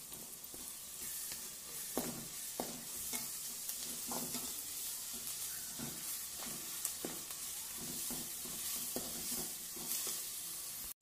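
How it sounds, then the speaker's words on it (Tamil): Ginger garlic paste sautéing in a pan with onions for an egg gravy with green cashews: a steady close sizzle with repeated scraping strokes of a spoon, no voices. "இப்போ இஞ்சி பூண்டு பேஸ்ட்டையும் சேர்த்துப்போம்"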